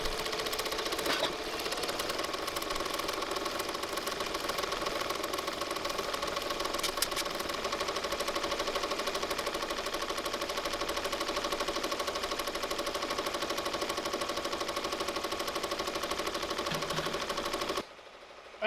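A computerized embroidery machine stitches a large piece on its own, with a steady fast mechanical chatter and hum that runs unbroken for most of the clip and then cuts off near the end.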